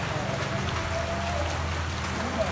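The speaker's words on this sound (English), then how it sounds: "and it's raining." Steady rain hisses down at a traditional Oroko wedding in Cameroon, an even, continuous patter with a low rumble beneath it that lasts throughout.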